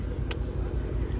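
Car engine idling low and steady nearby as a Dodge Challenger Scat Pack pulls up, a continuous rumble with a slight rev partway through.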